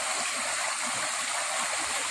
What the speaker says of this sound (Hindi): मुझे ये झरना दिख गया